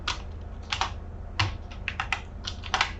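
C code tapped out on a computer keyboard, scattered crisp key clicks in small clusters with short gaps, close and moderately loud over a faint low hum, no speech.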